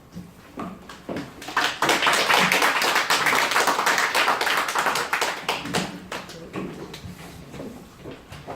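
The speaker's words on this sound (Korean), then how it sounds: "좀 뜨겁게 좀 박수로 좀 맞이해 주시기 바랍니다" An audience applauds to welcome a lecturer. Scattered claps build quickly into dense, loud applause lasting several seconds, then thin out gradually.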